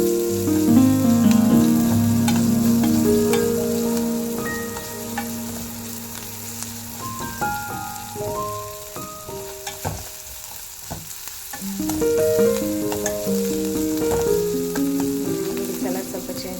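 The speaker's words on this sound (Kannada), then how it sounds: "ಸ್ವಲ್ಪ ಈರುಳ್ಳಿ ಚೆನ್ನಾಗಿ ಫ್ರೈ ಮಾಡೋಣ." Onions frying in a pan for mosaru avalakki, a soft steady sizzle with occasional clinks of a spoon stirring, close and fairly quiet.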